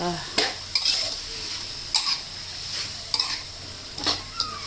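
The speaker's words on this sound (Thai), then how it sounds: "ผัดพริกหยวกใส่เนื้อหมูนะคะ" Pork and sweet banana peppers stir-fried in a pan, a steady sizzle broken by sharp clanks and scrapes of a spatula against metal roughly every second, close up with no talking.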